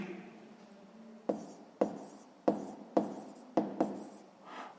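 Pen strokes on paper while a 6th-grade math solution is written out: six or seven sharp, evenly spaced scratching taps, close and fairly quiet, with no talking.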